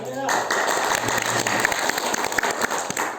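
Applause from a crowd at a public hearing between community groups and a regency council in Bengkulu Tengah, brisk scattered clapping that follows brief speech and carries on steadily.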